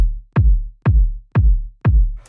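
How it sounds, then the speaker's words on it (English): Round, warm kick drum in a jazzy house beat hits four times on straight quarter notes, each thump loud and close with a deep low body and a quick decay, playing alone with no talk. "Next sound we have here is the kick"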